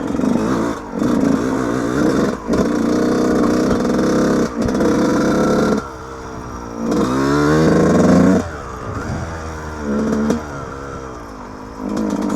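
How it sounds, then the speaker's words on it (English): A Yamaha YZ125 two-stroke dirt bike screams along an off-road trail, its engine revving high and dropping sharply between gear shifts, with a nasal buzzing whine heard close up from the rider's position. "this definitely is the fastest bike I've ever rode"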